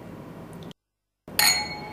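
Glasses touch in a toast, one bright ringing clink that lingers briefly after a short moment of quiet, close and clear with no talk over it.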